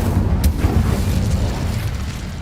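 Fire spell explosion in Hogwarts Legacy, a loud low rumbling boom that bursts and then roars on with a heavy bass body, close and alone.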